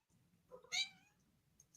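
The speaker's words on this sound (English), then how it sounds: "I think I heard your cat that time" A house cat meows once, a short clear call near the middle, heard nearby against quiet room hum with faint clicks afterward.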